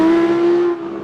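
A 2017 Audi R8 V10 Plus engine roars loudly at high revs, holding a steady, strained note before easing off slightly near the end.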